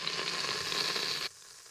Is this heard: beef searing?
yes